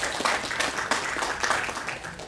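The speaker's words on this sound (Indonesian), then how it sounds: "Tepuk tangan dulu." Audience of Indonesian students in Taiwan clapping their hands at a talk event, uneven bursts of applause from a modest crowd, fairly quiet and brief.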